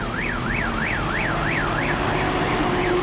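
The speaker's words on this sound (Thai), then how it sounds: "ต้องใส่จะหวอจนแบตหมดนะครับ" An unattended vehicle's siren wails in an even rising-and-falling cycle, repeating about every third of a second, loud and continuous over a rumbling engine-like background.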